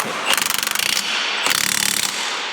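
A ratchet wrench clicks in two quick, close bursts of rapid, evenly spaced ticking, loud and metallic, separated by a brief pause.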